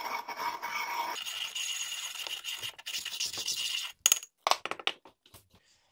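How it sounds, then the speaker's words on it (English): Mined rock is ground again into a finer powder, a steady gritty scraping and rubbing that runs for about four seconds, then gives way to a few sharp, scattered clicks and taps. "And I'm going to grind it one more time just to get it even finer."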